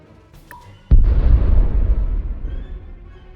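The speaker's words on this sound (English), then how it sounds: "Let's bomb it." A bombing run in the PC space strategy game Master of Orion: after a couple of faint clicks, one sudden loud explosion hits, then a deep rumbling roar that slowly fades over the next few seconds.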